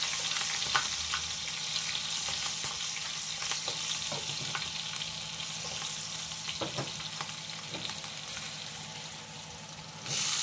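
Cumin seeds and green chillies fry in hot oil in a pan with a steady, close sizzle. The crackle runs unbroken throughout, with a few soft stirring scrapes and no talking.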